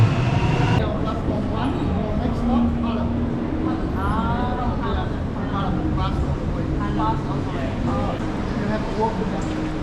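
Train at a Melbourne railway station, a steady rumble of the running train with squealing wheel and brake tones and chimes, as people talk nearby throughout.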